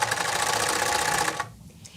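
A blind stitch hemming machine runs fast and steadily, a loud close mechanical whirr for over a second before stopping abruptly, leaving only faint room noise.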